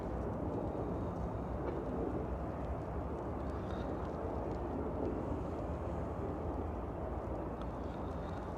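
Airplane at DFW airport, a broad steady roar of engines heard from a distance, continuous and even throughout with no talk over it.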